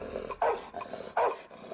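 A rescued Rottweiler named Nicky growls aggressively at another dog. Deep, rough snarls swell into two louder, harsher bursts close by, with no talking.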